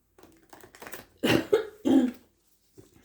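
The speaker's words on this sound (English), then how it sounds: "Why do I never cough off camera and always cough on camera?" Several harsh coughs from one person indoors, a few quieter hacks followed by three loud close bursts, then a short pause and a faint trailing sound.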